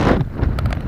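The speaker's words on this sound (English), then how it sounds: "It's getting pretty windy." Gusty wind buffets the microphone with a steady low rumble and roar, with a few faint higher clicks, no talking.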